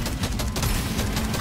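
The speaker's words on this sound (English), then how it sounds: "We just stand here and just let the assault rifle fire off." An assault rifle fires continuously in the Deep Rock Galactic: Survivor game, a rapid, dense rattle of shots packed together at a steady loud level.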